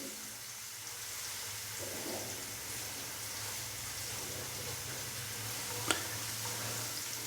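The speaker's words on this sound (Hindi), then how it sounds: "लहसुन को 3 से 4 मिनट के लिए अच्छे से फ्राई कर लेंगे" Crushed garlic fries in oil over a high flame with a steady, even sizzling hiss that stays constant throughout, broken once by a single brief click near the end.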